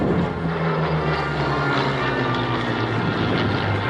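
A vintage propeller fighter plane engine rumbles loudly and steadily up close at an air show, a deep droning roar with no pauses.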